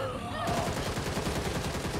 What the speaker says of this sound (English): What the fuck are they shooting at?